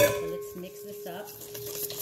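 A spoon or whisk mixes red velvet pancake batter of cocoa powder with wet and dry ingredients in a bowl, with soft faint stirring and occasional light clinks of utensil against the bowl.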